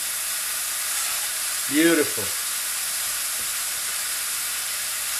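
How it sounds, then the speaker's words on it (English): Ground beef sizzles in a hot pan for a cottage pie, a short loud burst of frying hiss and crackle near the mic as the meat goes in, then a steady faint sizzle, with a brief spoken word over it. "Ah, I hear it sizzling."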